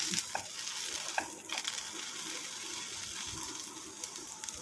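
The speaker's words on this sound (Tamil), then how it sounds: "இந்த மாதிரி ஆயிலில் அதாவது நெய்யில் வந்து இந்த மாதிரி நல்லா வதங்கணும்" Hibiscus flowers sautéing in ghee give off a soft, continuous sizzle, close by, with faint stirring scrapes and a few light knocks; no one speaks.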